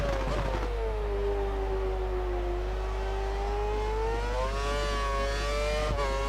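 A Formula 1 car engine in the racing game F1 2013, a Lotus at the Spanish round, whines steadily and close, its pitch sinking as it shifts down through a corner, then climbing again as it pulls away.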